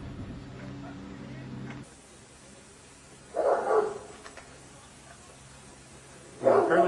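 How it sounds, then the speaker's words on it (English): Bursts of dog barking break out twice over a quiet background hum at feeding time for over 100 dogs, each flurry sounding like several dogs yapping together before falling silent. "And now we're gonna go see the feeding of the dogs."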